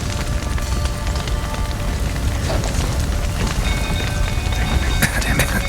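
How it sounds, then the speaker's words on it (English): Steady rain in The Witcher 3 video game hisses and patters across surfaces, a dense constant wash of droplets with occasional faint crackles underneath. "Looks like rain."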